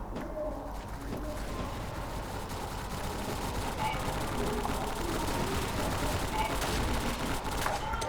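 Holy Shotgun gunfire in the CrossFire video game, a dense, continuous run of rapid shots with mechanical reloading clicks mixed in, loud and close, with voices talking over it at times.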